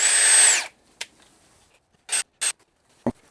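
A DeWalt power screwdriver whirs in one short high burst while a light switch cover is removed, followed by a few faint scrapes and clicks of the cover and screws.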